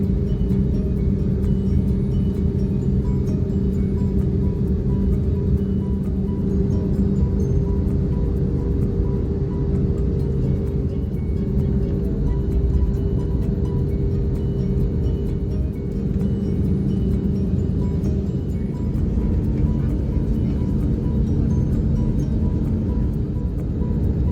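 Airliner cabin noise on a flight to Phoenix, a loud, unbroken low drone of engines and airflow that holds steady throughout without any voices.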